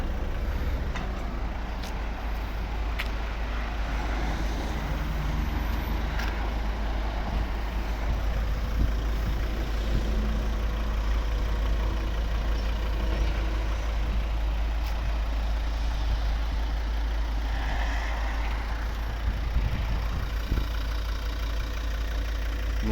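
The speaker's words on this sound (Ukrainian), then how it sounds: "Автомобіль заведений, рівно тихо, еластично працює." A 2012 Volvo V60 2.0 D3 diesel engine idles with a steady low rumble throughout, with faint mechanical clicks and light background noise on top.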